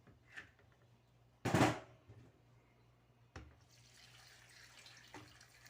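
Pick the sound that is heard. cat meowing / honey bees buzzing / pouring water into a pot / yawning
pouring water into a pot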